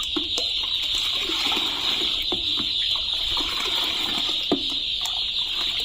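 Steady running water as medicine for broiler chicks is mixed into it, with a faint stirring and the occasional light clink, continuous and close, with no talking.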